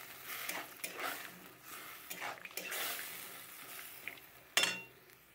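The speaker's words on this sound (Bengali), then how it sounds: "দিয়ে খুব ভালো করে মিশিয়ে নিতে হবে এটা।" A spoon stirring white mustard paste and water in a pan for Bengali mustard hilsa, giving soft scraping and clinking strokes with a faint sizzle and one sharper clank near the end.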